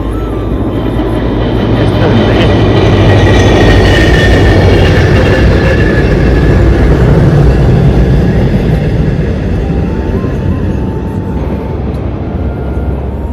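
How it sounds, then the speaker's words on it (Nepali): A loud train rumbles past nearby, its heavy roar and rhythmic wheel clatter swelling in the middle and slowly easing off. "ट्रेन आयो"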